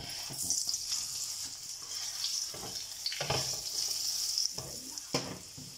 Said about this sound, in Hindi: अब इसके ऊपर घी लगा लेंगे हम। साइड चेंज कर देंगे।